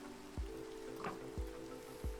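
Rain falling at night in Minecraft, a steady hiss of rainfall with a low droning tone and a few soft thuds recurring at intervals, fairly quiet and continuous without any voices.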